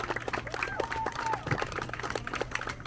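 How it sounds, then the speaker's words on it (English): At an outdoor summer freestyle dance battle in East Ottawa, a crowd claps in loose, uneven bursts with a few whoops and background chatter, moderately near and not very loud. "So give yourselves a round of applause."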